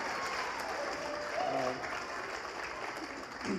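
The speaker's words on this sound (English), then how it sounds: "So everyone give a big round of applause to Mark." Wedding guests applaud in a steady wash of clapping at a reception, with voices mixing in over the continuous applause.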